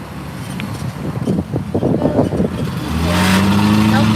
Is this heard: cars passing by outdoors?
yes